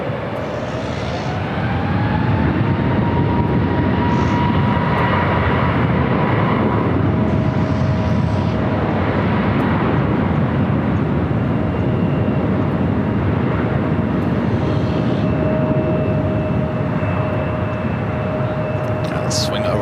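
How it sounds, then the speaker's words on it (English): American Airlines Boeing 787 Dreamliner arriving on runway 24 right at Los Angeles International Airport, a steady loud jet roar with engine whine held throughout, mixed with faint background talk. "We got that American Dreamliner up next for arrival on 24 right."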